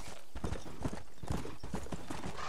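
A horse gallops in Red Dead Redemption, hooves pounding in a fast, steady, close rhythm of heavy thuds that continues without a break.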